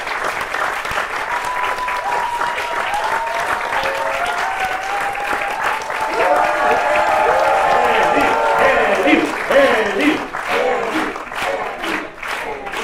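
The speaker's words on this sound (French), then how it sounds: "We applaud you. Vous applaudissez." A cinema audience applauds at a presentation and Q&A, sustained clapping filling the room at a steady, loud level while a speaker's voice cuts through over the top.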